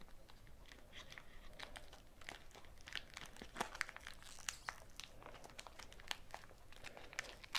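Crinkly plastic wrapper of a Protein Active Choco Blast chocolate-coated protein bar being torn and unwrapped, with close, quiet, irregular crackles and rustles and no talking.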